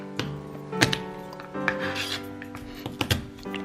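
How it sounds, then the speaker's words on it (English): Garlic cloves crushed under a flat knife blade on a cutting board while brunch is prepared, giving a few sharp, close knocks and squashing thumps with quieter rubbing and scraping between them. "I'm just gonna smash it like so"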